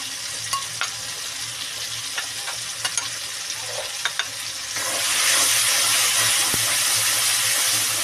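Mustard and green chili paste hits a hot pan and is stirred, first a low crackle with scattered spatters, then a sudden loud steady sizzle that swells and holds, close by and continuous.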